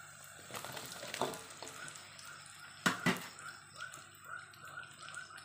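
Jengkol beans dropped into spice paste in a pan and stirred, giving soft sizzling with a few sharp clatters and scrapes at a low, close level.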